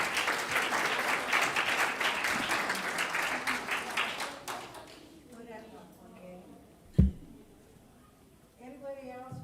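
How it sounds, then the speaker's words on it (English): Audience applause at a hula competition fills the opening seconds, loud, dense clapping that fades out around the midpoint, followed by quieter speech and a sharp knock. "Give her a round of applause"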